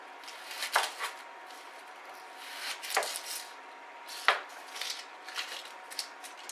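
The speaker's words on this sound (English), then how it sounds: "For this onion we're going to slice it quite thinly." A knife slices thinly through an onion on a board, soft crisp cuts and scraping strokes coming in quick irregular bursts at close range, fairly quiet.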